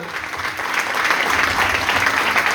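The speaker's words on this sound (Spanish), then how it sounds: "Dale más fuerte ese aplauso." A church congregation claps in dense, sustained applause that holds loud and steady for a couple of seconds.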